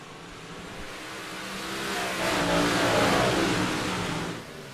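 Race car engines roar in an iRacing simulator race, a continuous revving drone that swells louder as cars pass side by side, then eases slightly.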